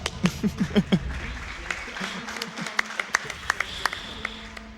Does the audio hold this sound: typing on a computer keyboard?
no